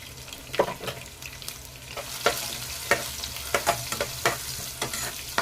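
Brinjal is sautéed in oil after onion and garlic in a home kitchen, with a steady oily sizzle broken by repeated scraping stirs of a spoon against the pan, close and clear.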